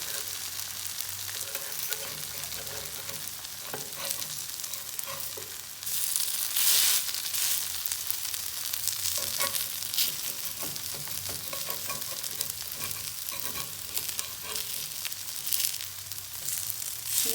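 Hash browns sizzle steadily on a hot tawa while being pressed gently, a continuous close frying hiss with occasional louder crackling bursts and scraping, no voices over it.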